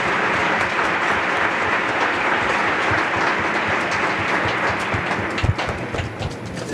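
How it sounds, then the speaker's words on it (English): An audience applauds at a PLD Space rocket program presentation, a continuous wash of clapping at moderate volume with a few sharper claps standing out near the end. "A big round of applause."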